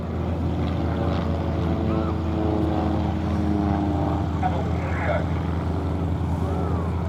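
Stampe biplanes taxi out with propeller engines running, giving a steady low droning hum and rumble at moderate distance, continuous throughout, with faint background crowd noise.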